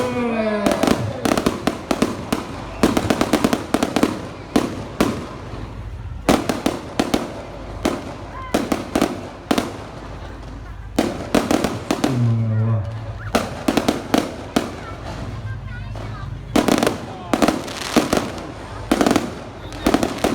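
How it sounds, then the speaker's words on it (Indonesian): Fireworks display at the Kubu Raya anniversary celebration, a long run of sharp explosive bangs and crackles in irregular bursts, loud and close, with people talking and exclaiming in between. "Setiap pukul 10:15 kubur raya itu pasti ada kembang api."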